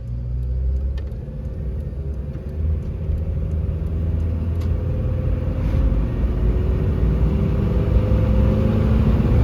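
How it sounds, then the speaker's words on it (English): A Toyota engine idling steadily just after starting, with a low, continuous rumble and a faint mechanical valve clatter riding on top, close and fairly loud with no talking. "I do hear a little bit of valve clatter coming from the front when it starts up like that"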